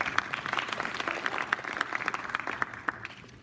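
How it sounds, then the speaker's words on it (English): Audience applause fills a town hall meeting on a redevelopment plan for the VA West LA campus, a steady wash of many hands clapping close and fairly loud, holding at even strength for the whole stretch. "I think I heard some applause"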